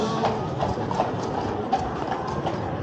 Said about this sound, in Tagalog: Laking kabayo, guys. Stallion.